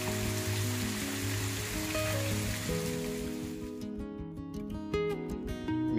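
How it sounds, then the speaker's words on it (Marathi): Heavy rain pours steadily around a temple, a dense wash of falling water that dominates the scene, with a faint tonal hum and music-like tones mixed in underneath. "खूप पाऊस पडतोय"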